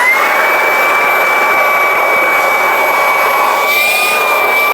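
A Ryobi 18V HP cordless stick vacuum runs while cleaning a car interior, a loud, steady high-pitched motor whine that holds constant throughout, its pitch shifting slightly near the end as the nozzle moves.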